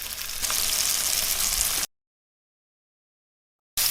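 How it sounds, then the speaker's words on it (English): Beef sears in vegetable oil in a hot pan, giving a steady, loud, close sizzle that cuts out abruptly to silence, then returns just as strongly. "We're gonna add some vegetable oil, and this is when, right in with the beef."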